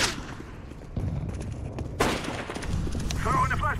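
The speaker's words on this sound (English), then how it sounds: "I'm throwing a grenade" Gunfire and grenade blasts in the video game CS:GO, with sharp repeated shots and booms layered over a voice talking throughout.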